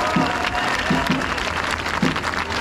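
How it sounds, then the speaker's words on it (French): Crowd applauding speaker Philippe Murer at a political rally, a steady wash of clapping throughout with a few short vocal calls rising above it. "Bravo à Philippe Murer, qu'on peut applaudir encore."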